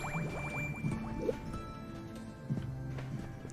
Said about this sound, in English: Take the holy water, drink it.